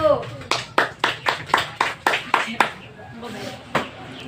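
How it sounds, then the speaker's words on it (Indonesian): A small classroom audience claps for a discussion group, about ten rhythmic, evenly spaced claps that stop abruptly, followed by faint scattered noise with a soft voice in the background. "Tepuk tangan untuk kelompok 1."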